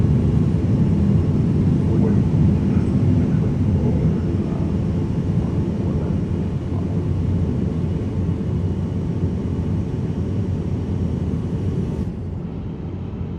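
Airbus A350-900 airliner in Microsoft Flight Simulator 2024 starting its takeoff roll, with a loud, steady broadband engine roar and low rumble that holds almost unchanged throughout, then dips slightly near the end.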